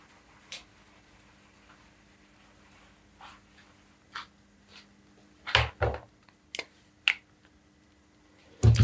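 Chalk or a marker taps and scratches on a classroom board in short, scattered strokes, faint and intermittent against a quiet room hum.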